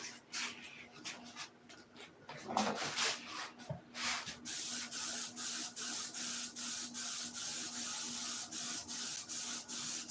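Spray gun laying coats of paint, a run of loud, evenly spaced hissing bursts with short pauses between, following some quieter rubbing and handling sounds at the start.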